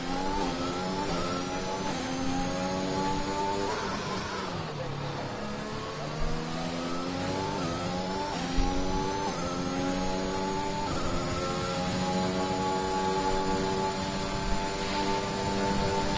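McLaren and Aston Martin race cars in a racing video game, engines revving and shifting with rising and falling tones, a continuous close drone under an excited commentator voice.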